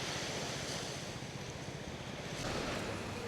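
Surf rolls in steadily along Wong Amat Beach in Pattaya, a soft, continuous wash of waves with some wind rumbling across the microphone and no voices.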